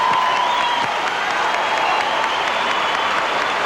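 A dense, steady wave of applause from an arena crowd fills the air for a women's gymnast at a 1987 all-around competition, clapping continuous and loud with faint cheers mixed in.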